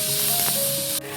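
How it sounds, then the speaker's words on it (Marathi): Peas, ginger and chillies sauté in a hot pan, giving a steady, close sizzling hiss that stays even for the whole moment with no talking. "आता हे चांगले ना मी परतून घेते मस्तपैकी"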